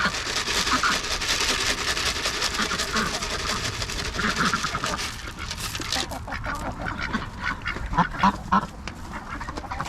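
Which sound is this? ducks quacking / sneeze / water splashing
ducks quacking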